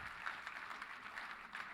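A conference audience claps for a winning team at an awards closing session, a continuous patter of many hands that is faint and distant, sustained without pause.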